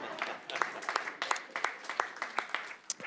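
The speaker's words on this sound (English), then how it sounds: "so you can clap again" Scattered audience members clap at a metro council meeting, a loose, uneven patter of individual hand claps, fairly close and moderately loud, with a voice talking alongside.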